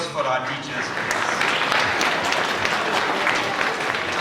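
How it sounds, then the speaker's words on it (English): An audience at a Teachers Day programme at St Joseph's College, Nainital breaks into loud, sustained applause that swells and holds as a dense crowd of clapping hands, with voices underneath. "A loud applause for our teachers, please."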